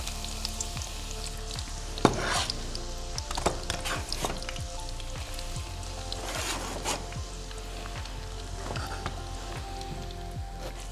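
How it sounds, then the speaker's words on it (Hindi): Roughly chopped onions fry in hot Dalda oil in a pan. A loud, close, continuous sizzle crackles throughout, with occasional sharper pops and spatter bursts and no talking. "इसमें हम डाल रहे हैं प्याज।"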